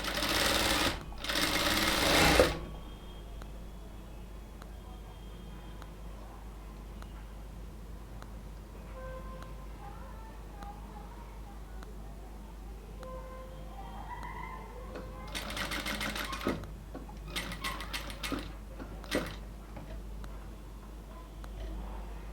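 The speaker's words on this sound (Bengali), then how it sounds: "এবার আমি উপর থেকে একদম ফিনিশিং করে সুন্দরভাবে ধরে ধরে আরেকটা সেলাই" A sewing machine stitches lace onto a kameez sleeve in short loud bursts at the start and again later, with quieter ticking handling noises and fabric movement between the runs.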